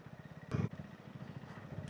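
A motorcycle labouring along a muddy, slippery road, its engine chugging in a fast steady pulse close by, with a brief louder burst of revving partway through.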